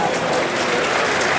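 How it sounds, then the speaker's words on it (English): A football crowd at a Millwall home match against Oxford United applauds a player leaving the pitch as a substitute, a broad, steady patter of clapping heard from a distance. "Aziz coming out, good applause."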